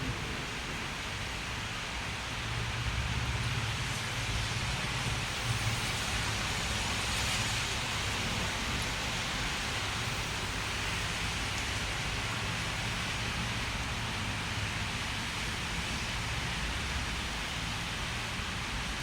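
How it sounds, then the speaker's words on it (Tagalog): Heavy rain pours down in a steady, dense roar of hiss with a low rumble underneath, continuous and unbroken throughout, during a stormy, windy day in Italy. "lakas ng ulan. Umuulan."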